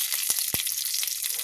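Cashews drop into hot oil with mustard seeds and curry leaves for lemon rice, raising a bright, dense hiss of frying with a couple of quick pops.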